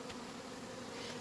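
Honey bees from an absconding swarm buzz in a dense, steady drone, many insects close by, continuous and moderately loud with no talk.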